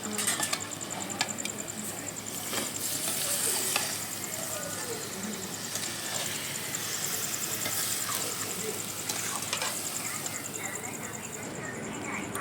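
Meat cooks slowly in a pan with a continuous low sizzle while a utensil stirs it in scraping strokes, a faint voice murmuring in the background now and then.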